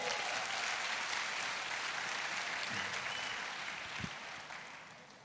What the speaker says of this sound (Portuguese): Aplaude, aplaude, aplaude